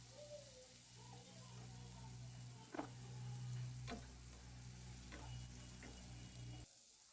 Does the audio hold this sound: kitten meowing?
no